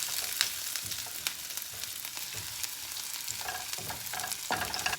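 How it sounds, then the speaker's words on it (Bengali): Chili and chopped garlic fry in oil in a home kitchen, a constant close sizzle broken by repeated spatula scrapes and clicks against the pan. "আর ফার্স্টে আমি তেলে মরিচ আর রসুন কুচি দিয়ে দিচ্ছি"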